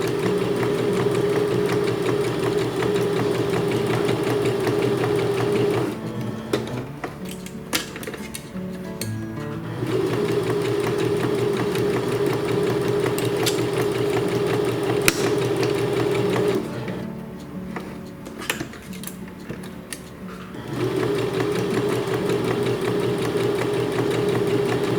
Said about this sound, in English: Line our fabric up at the edge of the presser foot and start sewing.